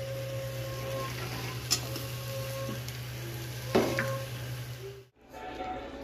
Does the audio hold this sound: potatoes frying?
yes